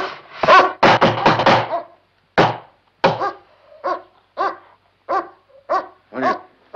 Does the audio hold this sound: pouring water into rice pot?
no